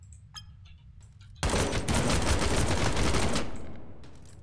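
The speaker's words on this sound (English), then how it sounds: "Wait, what happens when I shoot this?" Gunfire from a gun in the People Playground video game, a loud sustained burst of rapid shots that starts abruptly after a quieter moment, runs for about two seconds, then fades.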